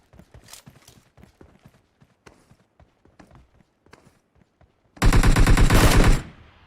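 A loud, close burst of rapid automatic gunfire in a shooter game cuts in after several seconds of faint ticking and footstep sounds, lasting about a second.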